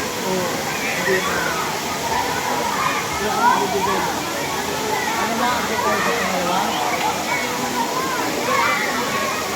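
Malilipot (Busay) waterfall in Albay, a steady, broad rush of falling water filling the scene throughout, with voices and people talking intermittently over the roar.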